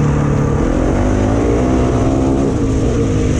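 KTM 890 motorcycle on Michelin Enduro Medium tyres, riding and accelerating with a loud, close engine drone that climbs in pitch as it pulls, steady and unbroken.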